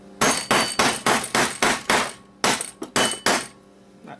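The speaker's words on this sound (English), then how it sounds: "hammering it in there to get under that" Hammer blows drive a wedged tool under a metal clip to free a platter: about ten sharp, ringing metallic strikes in a steady rhythm, close and loud, with a short pause before the last few.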